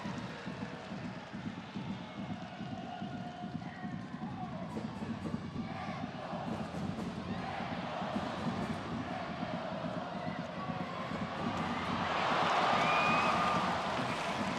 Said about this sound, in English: Crowd, visiting crowd, getting excited for a moment there.